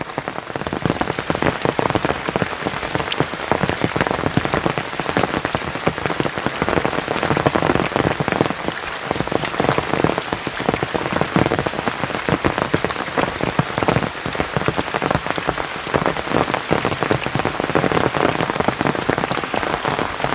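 Steady rain pours down outdoors in Konkan on a path where runoff flows toward a river. It is a dense, continuous hiss of drops on surfaces that holds even for twenty seconds, with no talking.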